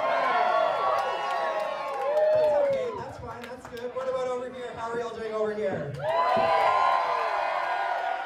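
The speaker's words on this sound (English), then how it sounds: "A sold out crowd, over 300 people packed in the Sherbrook Inn" A sold-out crowd of over 300 people packed into the Sherbrook Inn cheering, whooping and shouting in loud swelling waves, with a brief dip before the roar surges back.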